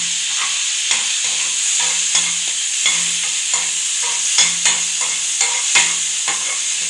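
Bell peppers sizzle steadily in a frying pan with shallots, while a spoon stirs them in, giving irregular scraping clicks over the hiss, close and fairly loud, with no talking.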